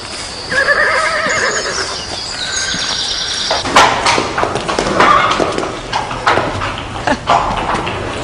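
A horse whinnies loudly up close, its call rising and falling, followed by snorts and hoof thumps on hard ground.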